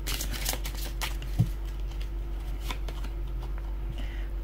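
Tarot cards are shuffled close by, giving repeated soft riffles and papery taps over a steady low hum, with one duller knock partway through.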